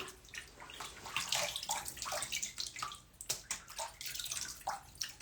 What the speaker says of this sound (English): I hear the water for 1 second.